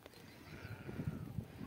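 A flock of sheep and goats bleats out in the field, several calls overlapping at middling distance, with faint background noise and no clear talk.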